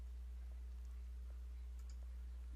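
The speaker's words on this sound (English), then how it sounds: "I double click on the pluses" A computer mouse gives soft double clicks while working in Word 2016, a few faint, short taps spaced apart over a quiet background hum.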